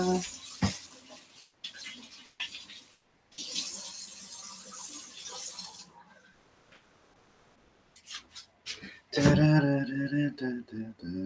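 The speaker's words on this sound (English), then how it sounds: "First, I gotta rinse this off." Running tap water rinsing something off, a steady broadband hiss for several seconds that breaks off and returns in short bursts, ending with louder splashing and a voice speaking.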